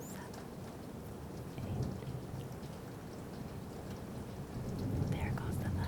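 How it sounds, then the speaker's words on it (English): Thunder rumbles low and steady through a rainstorm, rising in two swells over constant rain patter, with a soft voice briefly counting. "There goes the thunder."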